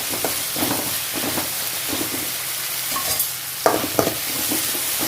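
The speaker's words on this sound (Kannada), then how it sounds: "ಟೊಮೆಟೊ ಎಲ್ಲ ಸ್ವಲ್ಪ ಸ್ಮೂತ್ ಆಗೋವರೆಗೆ ಮಿಕ್ಸ್ ಮಾಡಿ." Tomato masala is stirred and fried in a pan until smooth, with loud, rhythmic scraping strokes repeating over a constant close sizzle and no speech.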